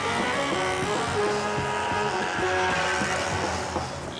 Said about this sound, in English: the deafening noise of thousands of small motorbikes throughout the city.